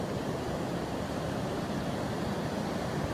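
Pacific Ocean waves wash in at the water's edge, a dense, steady roar of surf with no breaks or distinct crashes, heard close and continuous throughout.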